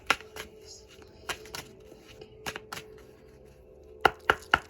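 Tarot cards side-shuffled by hand, a sparse series of sharp riffling snaps and taps, close and fairly quiet, with clusters near the start and end.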